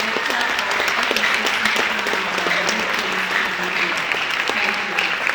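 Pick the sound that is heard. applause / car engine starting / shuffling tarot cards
applause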